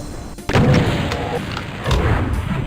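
A revenant enemy attacks in a custom Doom WAD with heavy booming thuds and explosive bursts, a sudden loud blast followed by a second impact and rumbling game noise.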